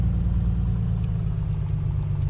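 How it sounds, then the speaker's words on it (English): A Piper Comanche 250 engine runs up in a flight simulator game. It makes a steady, loud, low propeller-engine drone that holds evenly throughout. "Position ourselves for an engine run up."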